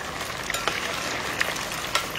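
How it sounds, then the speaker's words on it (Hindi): Soya chaap frying on medium flame, a steady close sizzle and hiss with a few brief brighter pops and spatters scattered across the short stretch. "हम इसको बहुत हाई फ्लेम पर नहीं फ्राई करेंगे, मीडियम फ्लेम पर फ्राई करेंगे"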